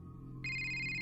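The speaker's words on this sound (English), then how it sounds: "But then her phone rang." A phone ringing: a steady electronic ringtone begins abruptly and continues evenly, close and clear with no voices, over a low background hum.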